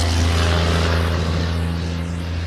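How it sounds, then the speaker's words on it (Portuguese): A large truck drives past close by, a loud steady engine drone with low rumbling tones that holds strong for the whole moment, with no voices. "Passar o caminhão, hein?"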